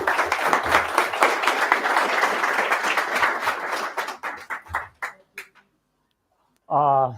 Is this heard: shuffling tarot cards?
no